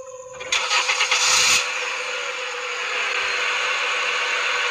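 A car engine cranks with a rapid rattling starter for about a second, catches, and settles into a steady idle that swells slightly as the car begins to pull away at night.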